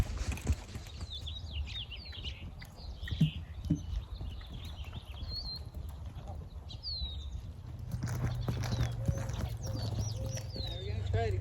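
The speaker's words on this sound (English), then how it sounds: "There's a horse walking down, so it's totally distracted." Hooves of a passing horse clip-clop at an outdoor gaited-horse training session, a soft irregular patter under birdsong and cooing doves, with low rumble building toward the end.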